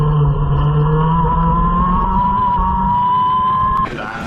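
Formula Blue racing karts lap a wet Clay Pigeon circuit, their engines a loud, close, continuous buzzing whine whose pitch slowly shifts before dropping suddenly near the end.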